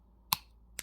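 Wire cutters snipping earring wire short, two crisp, close, quiet clicks about half a second apart in an otherwise near-silent setting.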